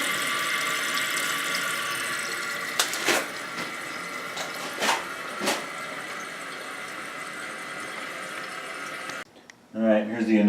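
Water runs steadily into a newly installed toilet tank, a continuous hissing fill with a few brief louder surges, then cutting off near the end as a voice begins speaking.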